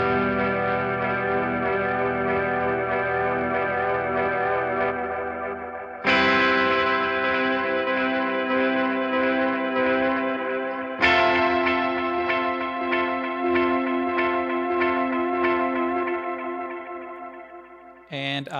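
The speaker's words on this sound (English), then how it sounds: "So it kind of just ramps up the intensity of that reverb." A Boss RE-202 Space Echo pedal adds reverb and echo to sustained, distorted chords, struck three times with loud, dense swells that ring out and build in intensity before a brief cutoff at the end.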